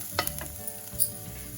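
Carrot and other vegetables being fried in a pan for veg manchow soup, a quiet sizzle with a few short stirring scrapes and clicks early on, no talk.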